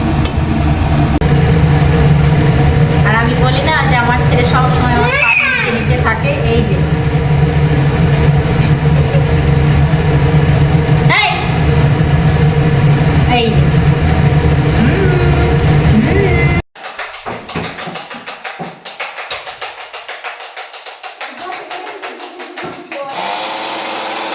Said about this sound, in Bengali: ছোট মিক্সিটাতে গুঁড়ো করা ফাইনাল গুঁড়ো করা হচ্ছে